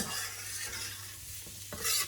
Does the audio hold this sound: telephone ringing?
no